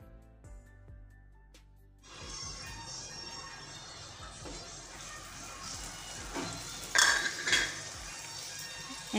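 Potatoes, spices and belembu fish being stirred and sautéed together in a pan over medium heat on a solar stove: a quiet start, then steady clatter of a spatula against the pan over a low sizzle, with a couple of louder scrapes.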